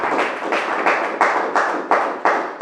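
Worshippers in a church service clap in unison, producing a loud, close, evenly spaced beat of sharp claps repeated about three times per second.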